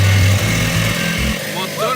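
A small sailboat's engine runs loud and close with a rough, chugging low drone, then cuts away after about a second and a half, leaving quieter background and a faint voice.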